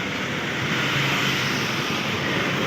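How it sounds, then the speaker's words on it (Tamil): Loud, steady machinery roar fills a Jeep service factory in Salem, a dense continuous broadband drone with no breaks. "சவுண்ட் அதிகமாக இருக்குது, ஏன்னா ஃபேக்ட்ரிக்குள்ள சவுண்ட் அதிகமாக வரும்ல"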